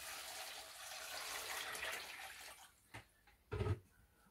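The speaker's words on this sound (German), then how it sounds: "Und da wasche ich die Zucchinis jetzt einmal durch." Zucchini rinsed under running water in a kitchen, a steady broad rush of flow for a couple of seconds, then quieter moments broken by a few short splashy bursts as the vegetables are moved through the stream.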